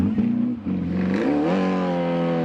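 An old Volkswagen Beetle rally car drives past, its engine droning and then rising in pitch as it accelerates, loud and steady, with no talking.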